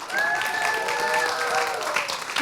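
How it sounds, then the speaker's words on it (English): An audience at a refugee student fund benefit concert breaks into brisk applause, steady and fairly close for a couple of seconds, while a sustained whistle-like tone rings over the clapping. "Can I get a huge round of applause?"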